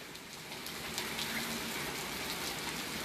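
Freezing rain falling outdoors on a street, a faint steady hiss of drops with scattered light patters, continuous and distant.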